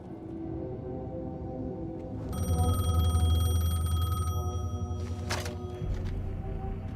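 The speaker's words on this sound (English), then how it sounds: "The payphone was ringing." Payphone ringing in the Alan Wake video game: a steady electronic bell tone rings continuously from about two seconds in, loud and close over a low ambient drone, with no talk.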